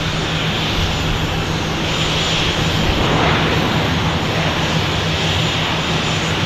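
An Embraer E-175 jet at Tucson airport gives a steady, loud, broadband engine roar that holds evenly throughout, with no voices over it.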